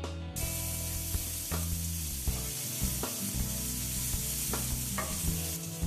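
Spanish onion softening in olive oil in a pan hisses with a steady close sizzle while a utensil scrapes and stirs in repeated strokes, alone with no speech.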